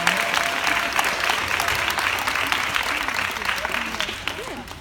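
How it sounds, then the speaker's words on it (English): A room full of people gives a round of applause at a gathering, dense clapping with a few whoops and cheers, loud at first and tapering slightly while a voice speaks over it. "Let's give them a round of applause."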